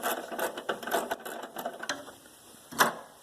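Screws are backed out of an air conditioner unit with a ratcheting tool, producing quick runs of close mechanical clicks and ticks with brief pauses between them.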